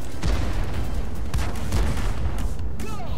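Heavy artillery booms from tanks in a World of Tanks-style battle between a Defender and an Object 252U, several deep thuds in quick succession, loud and close, with battle noise throughout.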